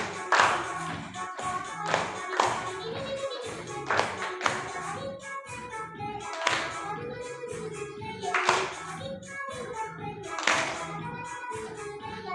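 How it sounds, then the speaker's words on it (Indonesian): A class claps the penguin clap chant, with rhythmic bursts of hand claps and taps repeating about every two seconds, and children's voices chanting between them. "Kita tepuk penguin, nggih."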